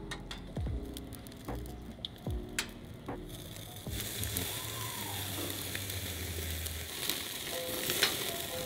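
Chicken sizzles on a hot grill, with a few clicks and handling knocks at first before a broader, steady frying hiss takes over and swells near the end.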